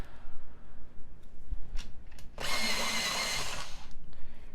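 A white Prismacolor colored pencil is ground in a sharpener, producing a loud, close, continuous whirring grind of about a second and a half. A few faint clicks and handling taps come before it.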